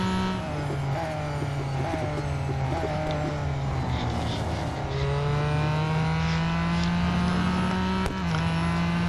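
A Ford GT race car in Real Racing 3 roars at full throttle around Le Mans, its engine holding a loud, sustained high-pitched drone that climbs and shifts pitch as it accelerates, with no voices over it.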